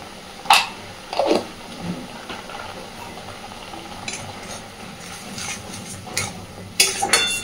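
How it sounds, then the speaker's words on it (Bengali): Spices and salt get stirred and mixed in a pan, with intermittent scrapes and knocks of a utensil against the cookware over a low background hiss. "খুব ভালোভাবে সবকিছুকে মিশিয়ে দেব"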